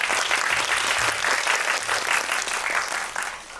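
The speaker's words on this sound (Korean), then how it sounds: "큰 박수로 환영해 주시기 바랍니다." An audience at a film festival screening talk applauds in a dense, steady burst of clapping that tapers slightly at the end, with no speech over it.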